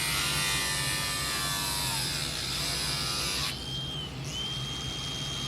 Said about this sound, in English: Some people would say this guy's using a metal grinder to cut wood.